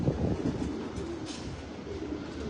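Racing pigeons in a loft coo in a steady, low, overlapping murmur, close and continuous throughout.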